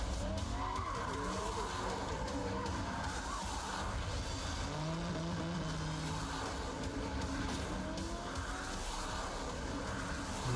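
Arcade racing cars in Cruis'n Blast skid with sustained tire squeals over roaring engines, a loud continuous stretch of sliding and revving with no talk.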